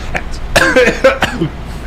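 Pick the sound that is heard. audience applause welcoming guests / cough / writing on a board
cough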